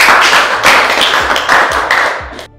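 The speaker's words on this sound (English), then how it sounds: "Can somebody please clap for her?" Classroom of students clapping to welcome a new English and literature teacher, loud close dense applause with some thumps, holding steady and then cutting off abruptly.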